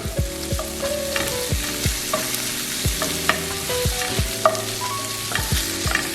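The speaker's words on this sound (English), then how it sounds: "So I'll just saute it together in the onions and the garlic." Bacon sautés with onions and garlic in a pan, a close sizzle broken by repeated knocks and scrapes from stirring, with occasional ringing clinks and no talking.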